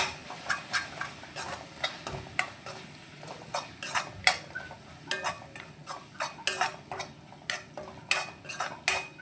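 Masala for chicken curry being fried and stirred in a pan: a steady run of sharp metallic clinks and scrapes from the utensil against the pan, fairly close, with a soft low sizzle underneath and no talk.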